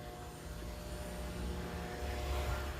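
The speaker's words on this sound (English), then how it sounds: "Here comes the car." A car approaches, a steady broadband engine and road roar that builds slightly as it draws near and passes, heard alone with no talk.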